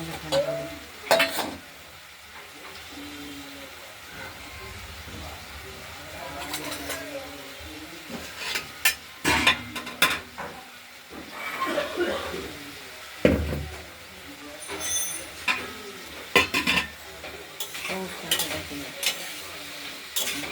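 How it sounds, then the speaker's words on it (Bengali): Bottle gourd with small shrimp is stirred in a pan for a lau chingri ghonto, the spoon scraping and clattering in bursts over a soft sizzle, with a voice talking at times. "এটাও নাড়াচাড়া দিতে হবে"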